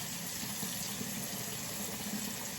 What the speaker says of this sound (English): give your blade a good rinse